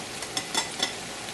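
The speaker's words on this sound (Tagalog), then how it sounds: "Dahan-dahan lang natin itong ihalo." Gentle stirring of boiled quail eggs and cooked shrimp in a pan, a few soft scraping swishes over a low hiss, close up and brief.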